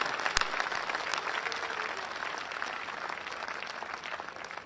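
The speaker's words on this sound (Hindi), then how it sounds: "एक बार भरपूर तालियां बजाकर स्वागत करें भाई शशिकांत यादव" An audience at a Hindi poetry gathering welcomes poet Shashikant Yadav with warm applause, a steady crowd clapping that holds at moderate level and gently fades toward the end.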